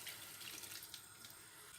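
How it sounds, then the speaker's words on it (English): Water from a cup pours into a cooking pot of chili with tinned tomatoes and mixed beans, a brief steady splashing rush, close and fairly quiet. "Then I'm going to add a cup of water"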